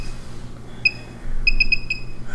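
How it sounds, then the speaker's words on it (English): An electronic device gives short, thin beeps: one single tone, then a quick run of four evenly spaced pulses over a low steady hum, fairly near and with no talking. "Is it beeping when it gets near my wrist?"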